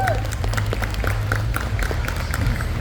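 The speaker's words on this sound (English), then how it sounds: "Big round of applause for the boss man." Brief burst of crowd applause and clapping at a tattoo convention pinup pageant, scattered claps over a busy, murmuring room.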